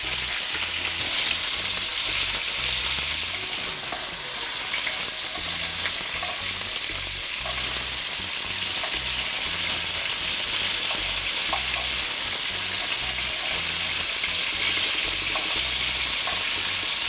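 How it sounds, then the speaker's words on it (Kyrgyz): Chicken shashlik skewers with vegetables frying in hot vegetable oil in a pan at home, giving a continuous loud sizzle and crackle with faint stirring scrapes throughout. "эми кызыган сковородкага салып кууруйбуз"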